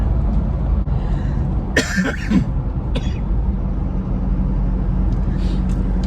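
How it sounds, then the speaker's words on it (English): A man with a lingering illness gives a sharp cough, then a smaller one a moment later, close to the mic inside a running SUV with steady road hum underneath. "This cough"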